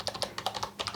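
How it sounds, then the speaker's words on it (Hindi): Rapid keystrokes on a computer keyboard click in quick, close succession, a short burst of typing heard alone with no speech. "सो मैं यहां पर गूगल टाइप करता हूं"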